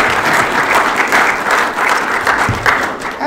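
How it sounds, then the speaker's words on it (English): Sustained applause from a conference audience for a panel, a dense steady patter of clapping filling the room at full volume for several seconds with no voices over it. "Let's give a round of applause to this panel of folks who come up here."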